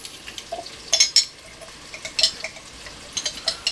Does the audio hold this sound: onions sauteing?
yes